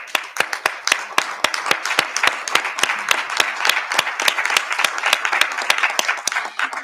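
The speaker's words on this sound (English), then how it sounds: "And let's applaud you." A board of education meeting audience claps steadily for the FFNEA team, the sharp individual claps clearly separated in a sparse, even rhythm that carries on throughout, with no voices over it.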